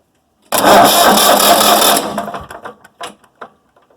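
A Massey Ferguson 240 tractor with starter problems cranks loudly for about a second and a half, then sputters into a string of uneven knocks and pops that die away.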